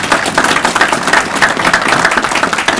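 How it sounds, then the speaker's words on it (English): Audience applause for honored guests at a Veteran's Day presentation, a dense, steady wash of many hands clapping at close range, sustained at full strength for the whole stretch without any voices. "Now let's give them all a big round of applause."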